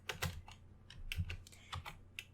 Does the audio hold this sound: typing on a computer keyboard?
yes